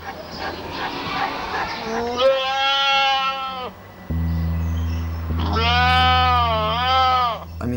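A goat at a stockyard or slaughterhouse, too sick or weak to walk, gives two long, wavering, nasal bleats over a steady low hum and background noise, with a short gap between them.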